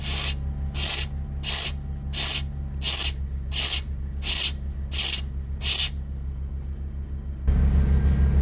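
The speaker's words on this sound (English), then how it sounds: "let's suck some fluid out of here. A little manual extractor here." A manual extractor pump draws fluid from a Yamaha outboard's trim unit in eight evenly spaced, rhythmic sucking strokes with hissy bursts over a steady low hum, then the strokes stop and a louder, rougher rumble takes over near the end.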